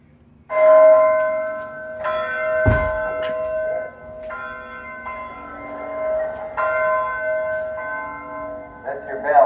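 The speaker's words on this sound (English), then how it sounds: "That bell rings every morning at 4:30" A large outdoor bell at Muhammad Ali's training camp rings in a series of loud, resonant strikes, each tone lingering and overlapping the next, with faint voices and ambient noise around it.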